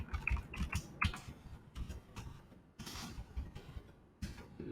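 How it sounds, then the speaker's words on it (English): Typing on a computer keyboard: quick bursts of close, crisp key clicks in uneven runs with brief pauses between words, quiet and alone with no voice. "So we'll just kind of type this out really quick so you can see it."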